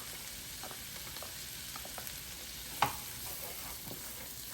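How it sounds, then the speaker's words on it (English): Carrots and celery sauté in a Power XL cooker, giving a faint, steady frying hiss with small scattered crackles and one sharper pop partway through. "Let all that saute nice and good."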